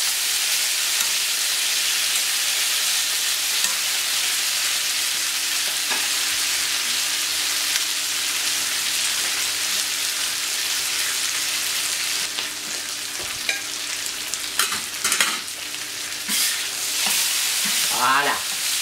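Octopus searing on a hot plancha, a steady loud sizzle and hiss running throughout, with a few brief clinks and scrapes toward the end.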